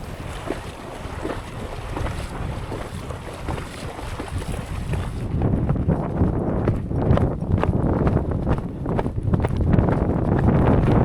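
Icelandic horses walk a muddy, waterlogged trail through a marshy section, their hooves giving a steady, uneven clop under strong wind buffeting the microphone throughout.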